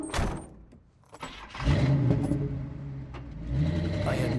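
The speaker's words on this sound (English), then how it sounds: "we're driving" A car in the Alan Wake video game starts up and drives, its engine revving into a steady mid-pitched drone after a short quiet gap, close and fairly loud.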